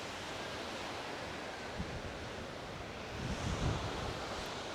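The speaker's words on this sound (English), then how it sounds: "it is very, very windy today guys, so today's audio might not be very good because of how windy it is" Strong gusting wind buffets a microphone in a forest during a windstorm, a steady broadband roar with low thumping rumbles that swell louder near the end; no one speaks.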